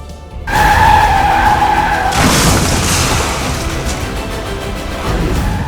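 A speeding truck rams a police car on a narrow road: a sustained tyre-like screech gives way to a loud, broad crash and lingering roar and debris noise, close up and without speech.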